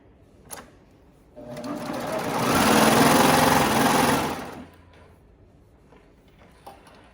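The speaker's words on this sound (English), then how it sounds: "I'm gonna raise up my presser foot and turn my garment all the way to the back so that I can serge off here." A serger sewing machine finishing a garment seam runs for about three seconds as a steady, fast whirring hum that swells and fades, with faint clicks before and after.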